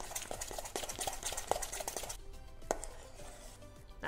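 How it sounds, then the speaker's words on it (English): Brisk scraping and tapping of a utensil working white buttercream in a bowl before it goes onto a cake, a quick run of close clicks and knocks that eases off near the end. "I'm going to just give it a mix before I spread it on the cake"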